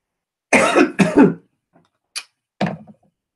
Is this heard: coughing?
yes